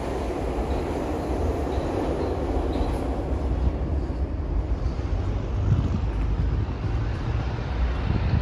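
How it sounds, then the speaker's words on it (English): A deep, continuous rumble of a subway train passing below a street in the Bronx, New York, fills the air, steady and heavy in the low end, with faint wind-like noise on top. "It sounds like we got the subway below us too."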